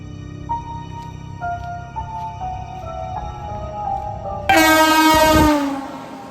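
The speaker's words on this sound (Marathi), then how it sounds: "अर ही ट्रेन कुठनं आली" A train pulls into a railway station, with a low rumble and a repeated chiming tone, then a loud blaring horn blast near the end that cuts off sharply.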